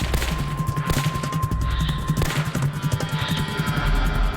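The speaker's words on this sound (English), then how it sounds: "Eli Hall fired again at police." Rapid gunfire rings out during an armed police standoff in the UK, a dense run of sharp, loud cracks and bangs that continues almost without pause.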